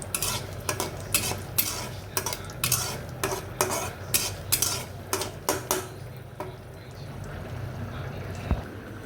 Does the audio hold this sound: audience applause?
no